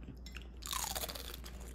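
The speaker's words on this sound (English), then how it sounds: "Dude, is it me or this mac and cheese feels crunchy?" Crunchy mac and cheese being chewed up close, a quiet mouth sound that turns into a burst of dry crunching and biting partway through, with no talk.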